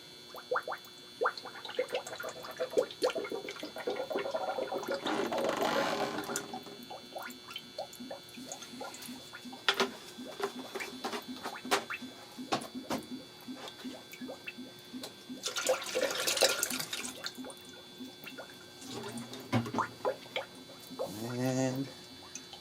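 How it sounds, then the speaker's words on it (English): Coolant poured into the engine of a 2010 Kia Soul during a thermostat installation, giving a liquid gurgling and trickling with dripping, heard near under intermittent talk. "Alright guys, let's pour some coolant."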